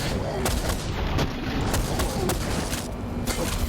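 Shotgun blasts in the video game SPRAWL, several heavy booming shots over a dense, loud, continuous din of in-game noise.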